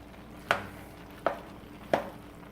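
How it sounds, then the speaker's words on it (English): Three sharp, evenly spaced knocks of a utensil against a pan while a keto meal is stirred, close and clear over a quiet background hum. "Let's stir it up a little bit here."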